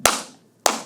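Two sharp, single hand claps land about half a second apart, each a crisp close slap with a short decaying tail in a quiet room.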